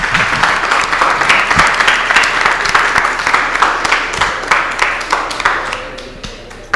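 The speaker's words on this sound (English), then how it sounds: "Can we have a last round of applause for the participant," Loud, close applause from a debate night audience for the participants, dense clapping with crisp individual hand strikes standing out, gradually thinning over nearly seven seconds.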